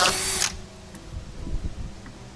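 A power drill whines loudly for about half a second while drilling out rivets on a Com Pac 16 sailboat during rub rail removal, then cuts off, leaving softer handling noises.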